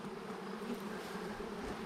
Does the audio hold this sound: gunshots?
no